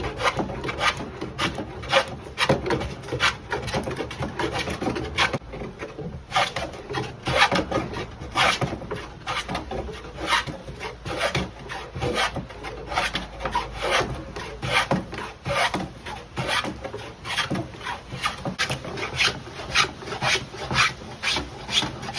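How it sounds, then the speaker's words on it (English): Small antique transitional hand plane shaving 70-year-old wooden siding, a steady series of close, rasping strokes repeating at an even working rhythm with no talk. "move this way at times with this little transitional plane"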